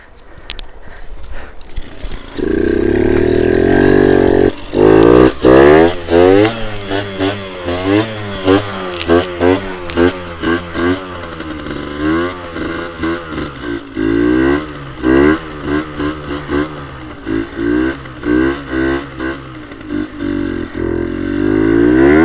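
A Suzuki RMX dirt bike engine, its carburetor running too lean, fires up and revs hard repeatedly, a loud close two-stroke buzz rising and falling in rapid throttle blips with no pauses.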